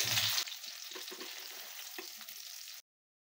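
Tuna fish fries in a pan on a stove for barbecue, giving a steady close sizzle with a few faint clinks, ending abruptly.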